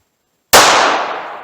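A single Federal HST round fired from a .357 Magnum revolver: one sharp, loud crack with a short decaying tail, standing alone after silence.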